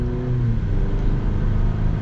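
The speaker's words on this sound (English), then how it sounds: "It's definitely weird hearing a four-cylinder, you know, when you're accelerating with the truck." A Chevy truck with a 2.7L turbocharged four-cylinder accelerates from inside the cab, giving a steady, muted engine drone with a low rumble that holds evenly throughout.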